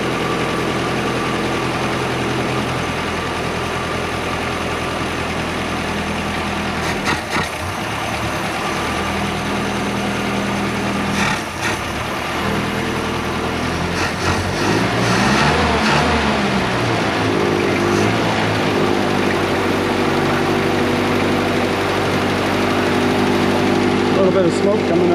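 An old Austin car engine idles on 11-year-old petrol, a steady, loud, close rumble running without a break, with a slight rise in revs partway through; someone talks over it now and then.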